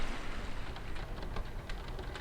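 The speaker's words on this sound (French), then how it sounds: "j'apprécie le fait d'écouter la pluie tomber sous la soupente du toit" Steady rain falling on a roof in a mountain valley, heard from beneath the sloping eaves: a dense, even hiss of drops with scattered brighter patters, continuous and close, with no voices.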